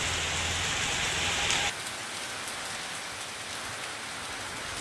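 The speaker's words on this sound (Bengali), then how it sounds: "আমাদের এখানে খুব বৃষ্টি হচ্ছে।" Heavy rain pours down steadily in a monsoon downpour. The hiss is loud at first, then drops to a softer, even patter that carries on alone with no voices.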